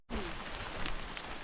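Steady rain hisses on a mountain trail during a descent from the summit of Mt. Buntis, a close, constant broadband wash with no talk and no thunder.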